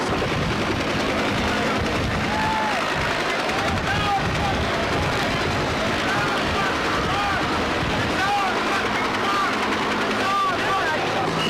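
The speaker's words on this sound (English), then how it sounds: "The propellers, that's the sound of the rotors," Police helicopter hovering about 75 feet over a crowd at a Tompkins Square Park riot, its rotors a constant loud thrumming wash that blends with shouting from the crowd throughout.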